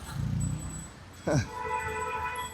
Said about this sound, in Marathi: हे न्यू डॉग आहे, देखो न्यू डॉग